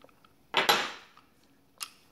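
A metal wrench handled while assembling AN fittings, a close clattering clink of tool metal followed by a fainter second tap, in an otherwise quiet space.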